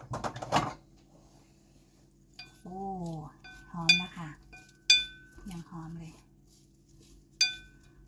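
Kitchen utensils and dishes clink and clank in sharp, scattered knocks while a spicy prawn dish is prepared, with a voice speaking between the clatters in a quiet room.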